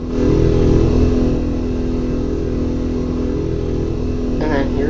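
A car engine idles and runs steadily at a moderate level, with a low mechanical hum throughout and a brief rise near the end, under background voices.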